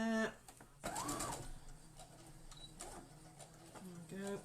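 A sewing machine stitches foundation paper piecing in a brief whirring run between stretches of a person talking nearby.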